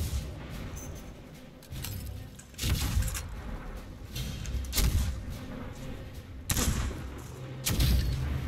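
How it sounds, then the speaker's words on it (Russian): Skeletons on an island in the pirate game Sea of Thieves fire at an anchored ship: several loud, booming gunshot bursts a second or two apart over a steady background of game ambience. "теперь по ним скелеты с острова стреляют"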